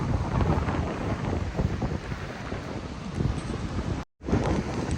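Typhoon wind blasts across the Pacific Ocean shore, buffeting the microphone with loud, gusting rumble over crashing surf, briefly dropping out once before the roar resumes.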